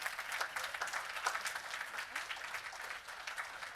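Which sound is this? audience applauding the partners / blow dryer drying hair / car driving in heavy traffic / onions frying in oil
audience applauding the partners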